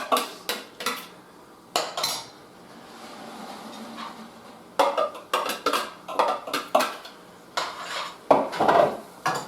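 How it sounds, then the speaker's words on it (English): Mushrooms added to mirepoix in a pan on the stove: a close series of clattering metal utensil scrapes and knocks against the pan, coming in irregular clusters with a faint cooking hiss between them. "And we're adding the mushrooms to the mirepoix."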